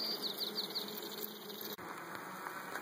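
Honey bees buzzing around an open backyard hive, a dense steady drone of many wings close by with one brief dropout, no voices.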